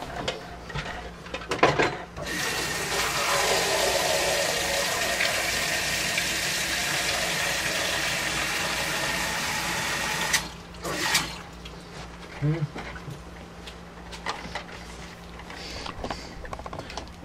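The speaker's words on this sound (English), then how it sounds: "Now I'm going to bring it over to the sink, fill it with some water." Tap water gushes steadily into a pressure cooker at a kitchen sink, a continuous close rushing stream lasting about eight seconds, then clinks and quieter handling noises.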